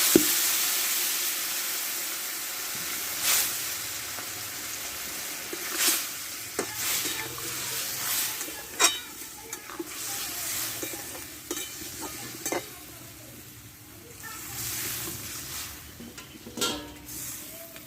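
Black mustard paste and water poured into a vegetarian curry of drumsticks and taro frying in a pan, giving a steady sizzle and hiss with occasional stirring scrapes and clinks throughout.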